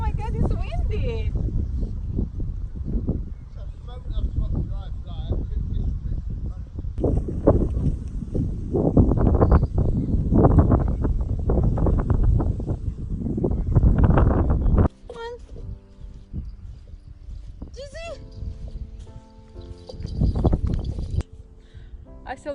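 Strong wind buffets the microphone outdoors on a fly fishing outing, a loud, continuous low rumble that dominates for most of the stretch, then drops away, with someone talking throughout.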